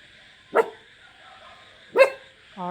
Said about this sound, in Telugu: ఎక్కడో అరుస్తున్నాయి రో కుక్కలు అరుస్తున్నాయి